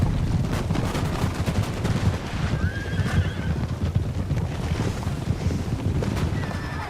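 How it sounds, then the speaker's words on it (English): Cossack cavalry charges into cannon batteries in a video game battle: loud galloping hooves and sharp horse whinnies sound over a dense battlefield din, with scattered gunfire and cannon booms underneath. "the supporting Cossack cavalry unit rushes past the infantry line and into the cannon batteries,"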